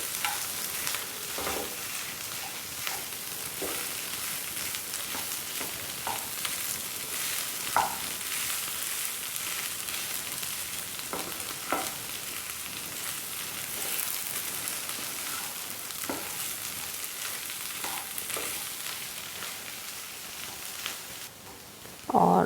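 Potatoes tossed with spices and salt fry in a pan at a steady, fairly faint sizzle, broken by scattered scraping stir strokes throughout, with one louder clatter at the very end.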